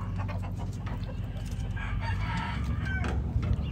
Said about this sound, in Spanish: Y aquí está una de mis gallinas de la cría que usamos nosotros, de mis Cowans.